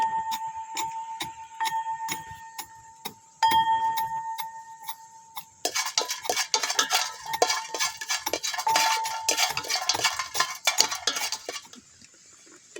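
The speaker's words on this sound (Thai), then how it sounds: "น้องพลอยนี่กำลังตำข้าวคั่ว" Roasted rice being pounded in a mortar in a home kitchen, a run of sharp, rhythmic knocks, sparse at first, then a dense, fast clatter of strikes that carries on for several seconds before easing off.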